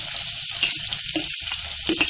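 Onion added to oil with sautéed garlic for a drumstick-leaf bhaji, a close crackling sizzle with sporadic sharp pops over a steady hiss.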